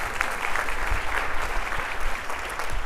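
An audience at a school district convocation claps steadily for a few seconds, a dense and even patter of many hands filling the hall.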